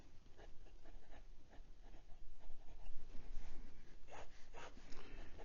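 A Hongdian 6013 fountain pen with an extra-fine Bock titanium nib writes on paper, giving soft, close scratchy strokes in an irregular rhythm, faint against a quiet room background.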